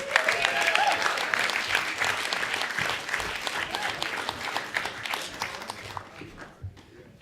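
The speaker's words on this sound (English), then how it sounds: "big round of applause for Loren Kraut." Audience applause at a comedy show, a steady wash of many hands clapping that gradually thins and fades toward the end, with a few whoops mixed in.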